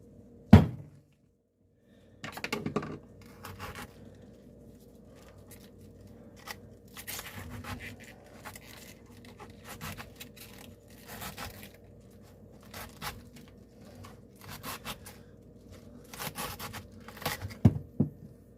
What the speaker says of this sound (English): I'm just going to slam it on the table, and then we're going to cut out the core.